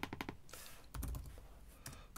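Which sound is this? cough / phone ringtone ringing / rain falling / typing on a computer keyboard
typing on a computer keyboard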